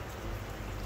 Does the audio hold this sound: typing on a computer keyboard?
no